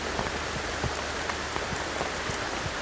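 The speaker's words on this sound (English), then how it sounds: "I receive the rain." Steady rain falls during a rainstorm, a dense hiss of drops pattering on surfaces with scattered louder splashes, continuous and fairly close with no voices.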